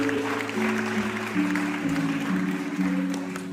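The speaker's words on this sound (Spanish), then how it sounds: "Den un fuerte aplauso a nuestro Dios" A church congregation claps together in worship, the steady wash of hands running throughout beneath sustained keyboard or organ music.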